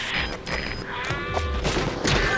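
Bursts of gunfire in Metal Gear Solid V: The Phantom Pain, scattered shots and crackling volleys mixed with booming impacts and game noise, fairly dense over a busy background.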